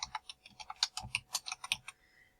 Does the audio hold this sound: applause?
no